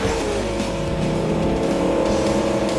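A rally car's engine drones loudly and steadily at high revs while overtaking in a town rally race in the survival game Scum, with no talking.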